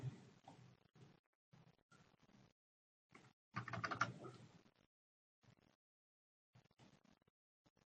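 Keys clatter on a computer keyboard in short bursts of typing separated by pauses, with one longer, busier flurry in the middle, all close and fairly quiet with no talking.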